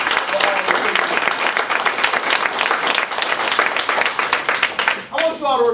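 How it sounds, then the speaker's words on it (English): A crowd gives a round of applause for the faculty and staff, with loud, dense clapping sustained for several seconds before a voice cuts in near the end. "why don't we give the faculty and staff a round of applause"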